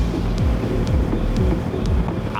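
Cranchi A32 luxury tender motor yacht running at full throttle near 32 knots, a steady loud engine roar with rushing wind and water noise and rhythmic pulsing thumps from the hull slapping waves.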